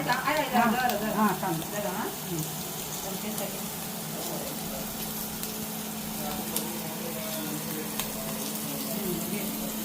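Surmai (kingfish) pieces frying in hot oil: a continuous, close crackling sizzle throughout, a little louder at the start, while a voice talks over it.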